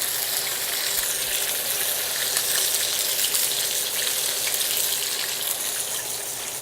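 Beef pot roast sears in a hot pan with a loud, steady sizzle that runs without a break, close and unbroken, with no talk.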